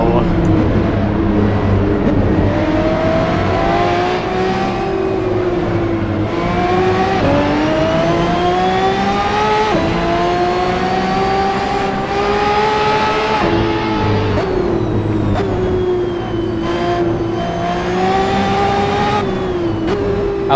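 Ferrari 599XX Evo race car engine in the Assetto Corsa racing game, a loud continuous howl rising and falling through gear changes and revs across the whole stretch, with faint tire noise.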